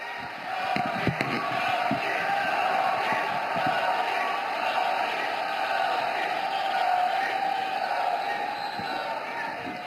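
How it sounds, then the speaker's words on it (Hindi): A large crowd at a political rally welcoming the Uttar Pradesh chief minister claps and cheers in a dense, continuous roar with scattered shouts, sustained for the whole stretch. "आइए जोरदार तालियों के साथ उत्तर प्रदेश के माननीय मुख्यमंत्री जी का स्वागत करें।"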